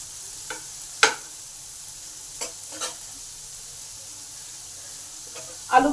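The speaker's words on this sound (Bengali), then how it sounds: "আলুগুলো আমার ভাজা ভাজা হয়ে গেছে।" Potatoes frying in a pan give off a steady, gentle sizzle, broken by a few clattering stirs of a utensil against the pan, close and clear with no talking.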